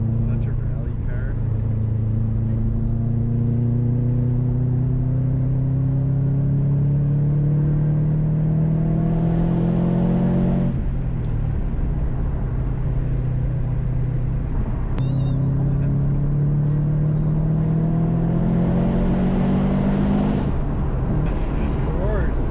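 Subaru STI rally car engine roaring loudly and steadily on a twisty forest road, revs rising in long sweeps, dropping briefly around the midpoint, then climbing again, close and continuous.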